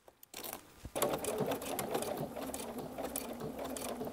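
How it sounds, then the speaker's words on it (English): A sewing machine stitches along the edge of a strip of Velcro, a steady close mechanical whir after a brief start, running continuously without talk. "we're just going to let the machine follow those teeth, and it really is going to follow that edge"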